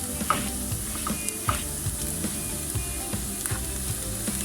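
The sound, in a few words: garlic and onions frying, stirred in pan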